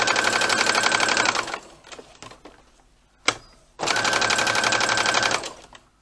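A Brother sewing and embroidery machine with tension raised to 4 runs in two loud, steady bursts of rapid stitching with a whining motor tone, separated by a quieter pause with small clicks.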